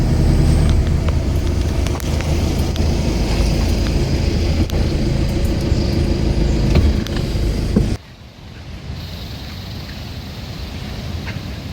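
A car drives on misty, wet mountain roads, its engine and road rumble loud and close inside the cabin, then dropping suddenly to a quieter hum.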